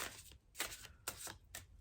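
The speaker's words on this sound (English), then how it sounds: "So let's give these a shuffle" Tarot cards are shuffled close by in quiet surroundings, a few soft riffling bursts spaced about half a second apart.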